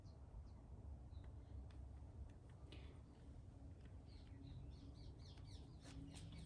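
Small birds chirp outside in short, scattered tweets, faint and somewhat distant, over a low steady background hum with no talking.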